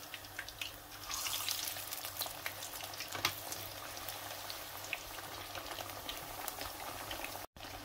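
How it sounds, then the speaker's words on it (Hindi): Vegetable keema kebabs frying in hot oil give a steady, bubbling sizzle that runs unbroken throughout, with a brief crackling burst near the middle and no voices. "अब मैं ये कबाब ऑयल के अंदर डाल दूंगी"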